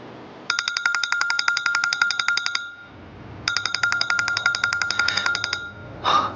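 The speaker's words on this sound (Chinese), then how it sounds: "公司的电话，我出去接一下" A phone rings with a rapid electronic trill in two long bursts separated by a brief pause, loud and close, followed by a short rustle at the end.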